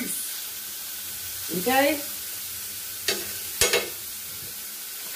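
Chicken browning in a pan gives a steady, moderate sizzle throughout, broken by a brief voice and a few sharp clinks of utensils against the pan.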